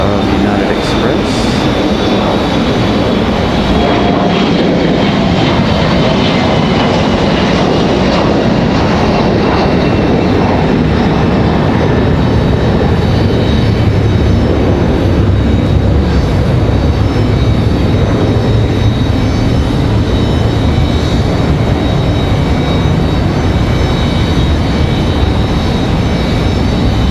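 A United Boeing 737 airliner waits at the end of the runway at Raleigh-Durham International Airport, its engines giving a steady, loud broadband roar that holds for the whole stretch without a break.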